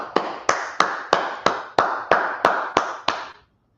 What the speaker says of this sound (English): We're gonna clap it up.